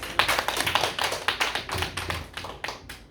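A church congregation applauds at a Sunday worship service, steady rhythmic clapping from many hands that keeps going without a break.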